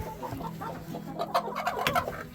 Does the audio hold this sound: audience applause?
no